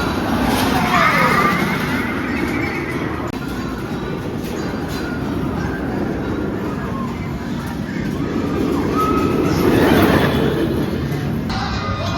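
The Smiler roller coaster at Alton Towers runs with a loud, continuous rumble of cars on the track, swelling and fading as trains pass, over a busy theme-park background.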